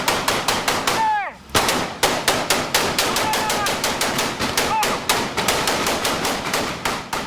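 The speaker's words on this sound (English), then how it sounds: "Cover fire!" Urban combat in the Philippines: rapid bursts of close, loud gunfire crack in a steady rhythm with a short pause, while voices shout in the background.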